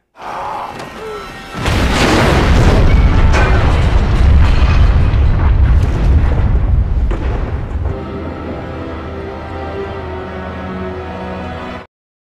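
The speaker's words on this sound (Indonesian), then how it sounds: "Kemudian ia terpaksa mengorbankan diri untuk dapat meledakkan jembatannya." A dynamite blast blowing up a bridge in the film The Colony (2013), sounding as a sudden loud boom that rolls into a long, heavy rumble of debris before settling into a quieter, tonal score-like tail.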